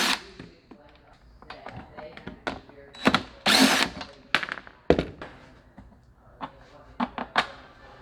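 A power tool works on two bolts on a Burromax mini bike in short, separate whirring bursts, with clanks and knocks from the parts between them.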